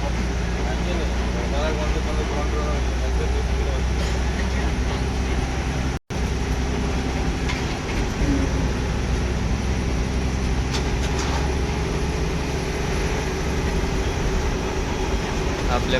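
An NWKRTC Tata BS6 ordinary interstate bus climbs the Katraj old ghat at night, its engine and road rumble forming a steady, loud drone that runs nearly unbroken apart from a momentary dropout.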